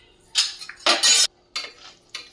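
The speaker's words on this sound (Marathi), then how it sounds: "मिक्स करून घेऊयात आणि छान असं पुरण हे आपण शिजवून घेऊयात" A spoon clanks and scrapes against a metal pot while jaggery is stirred into cooked chana dal filling for puran poli, in several short, bright bursts separated by quiet gaps.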